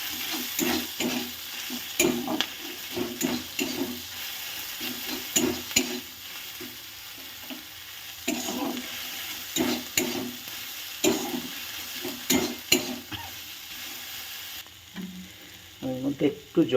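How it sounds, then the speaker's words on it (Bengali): Ground mustard paste sizzles among fried onions in a pan for a pointed-gourd mustard dish, with a close, busy frying crackle and rhythmic spatula scraping throughout that thins out to quieter stirring near the end. "পেঁয়াজটা আমার ভাজা হয়ে গেছে। এবার আমি সর্ষে বাটাটা দিয়ে দিচ্ছি।"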